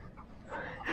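A dog on a beach whimpers and pants softly, the sound close and faint over low background rumble for about a second.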